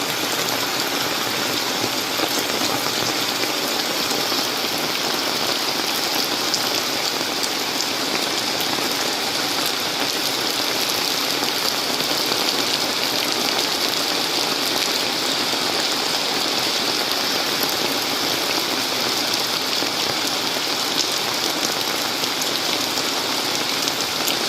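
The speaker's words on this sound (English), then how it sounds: "getting some pretty good drops coming down now" Heavy rain pours down steadily during the Philippine rainy season, a dense continuous hiss of drops drumming on surfaces that stays loud and even throughout, with no voices.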